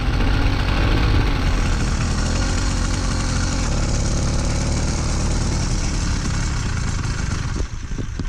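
A two-stroke engine on a motorized bicycle idles with a dense, buzzy, continuous rattle, loud and close throughout, faltering briefly just before the end.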